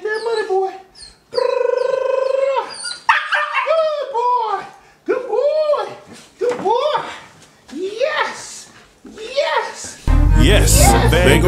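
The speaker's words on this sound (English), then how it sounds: "I'm gonna make him bark and then I'll let him have it." A Belgian Malinois or Dutch Shepherd working puppy barking loudly and repeatedly up close during training to find US currency, sharp rising yips and barks in a steady series, with someone speaking between them.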